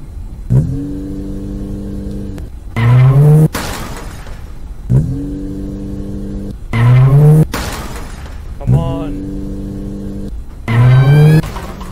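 A car in the Granny video game driving off in a repeating pattern: an engine note rises in pitch, then bursts into a loud, harsh roar, three times in a row, close and with no talk.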